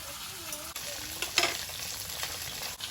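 A spatula stirs a spiced curry with ground coriander and cumin-chili paste, scraping in the pan over a constant close sizzle, with a few louder stir strokes and no speech.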